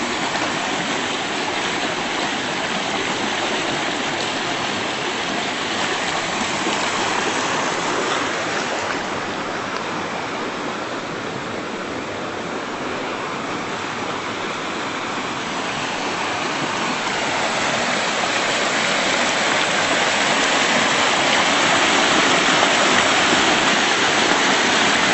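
A swollen creek roars steadily nearby in high water, a dense continuous rushing wash that swells slightly toward the end, with no voices.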